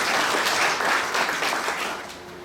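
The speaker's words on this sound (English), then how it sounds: "let's give them a round of applause" A crowd at an event claps for an absent group, a short burst of dense applause that starts full and thins toward the end.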